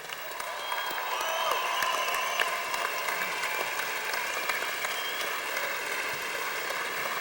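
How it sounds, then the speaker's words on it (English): Graduates at a university commencement ceremony applaud their families and friends, a broad, even wash of clapping from a large crowd, moderately distant and sustained throughout. "the graduates should applaud their families and friends who have supported them through the years"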